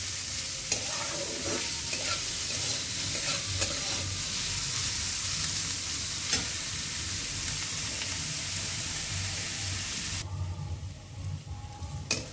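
Onion, ginger and chili fry in a pan with oil, giving a loud, steady sizzle with stirring scrapes that runs for about ten seconds, then drops away near the end.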